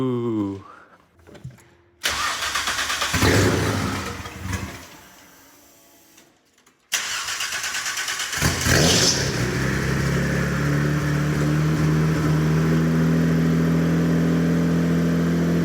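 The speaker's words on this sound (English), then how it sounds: "That's a good sounding Camry." A Toyota Camry engine after a motor swap starting up on its first test drive, with whirring and clunks before it catches, then a loud, sustained idle and rev up close.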